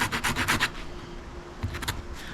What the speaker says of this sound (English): and just sand it this way.